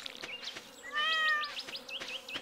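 A cartoonish cat meows once in the Stardew Valley farming game, a clear mid-length call over soft game ambience with buzzy insect-like chirps and regular clicking effects.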